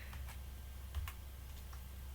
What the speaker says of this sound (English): oh, what am I typing?